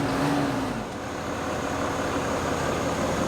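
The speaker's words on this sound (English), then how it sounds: "Whenever you start it, can you give us some revs so we can hear it?" A Ram pickup's 5th-generation Cummins diesel engine runs with a steady broadband rumble, loud and close, holding roughly even without distinct rises in pitch.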